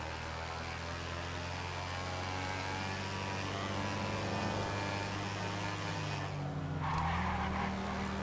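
A scooter engine hums steadily in GTA RP, a driving video game, with tires skidding and squealing partway through; the motor drone runs throughout at a constant loud level and nobody speaks.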